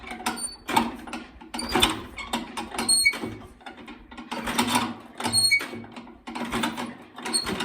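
A vintage Farmall Cub tractor is hand-cranked in 32-degree cold, giving repeated rhythmic mechanical clanks and ratcheting strokes in quick bursts, fairly close and moderately quiet, with no talk.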